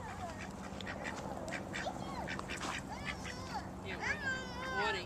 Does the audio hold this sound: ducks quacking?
yes